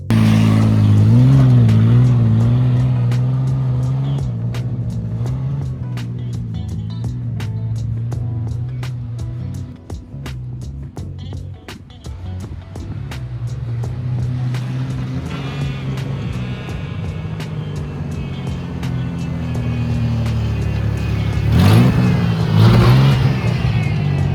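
A Ford Ranger pickup truck engine revs and roars steadily up close, dipping briefly before surging again near the end.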